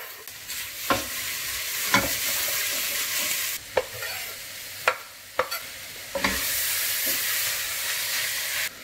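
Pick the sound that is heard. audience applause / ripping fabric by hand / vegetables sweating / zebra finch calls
vegetables sweating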